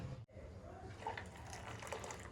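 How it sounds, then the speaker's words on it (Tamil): Water poured into a vessel of cucumber buttermilk, a steady liquid splash and trickle lasting about two seconds after a brief pause, close and moderately quiet. "இப்போ நான் 1 டம்ளர் மட்டும் மிக்சி கழுவி கொண்டு வந்து ஊற்றுறேன்"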